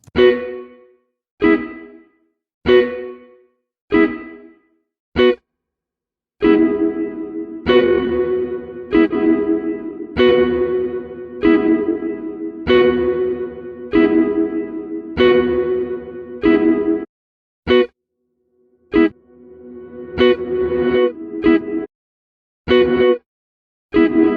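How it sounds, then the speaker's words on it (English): A drum pattern drenched in bright, dense plate reverb, hits ringing out with a lush metallic tail; rhythmic bursts separated by brief silences, no talking. "go and find a plate reverb. let's say a drum plate, and listen to what that sounds like."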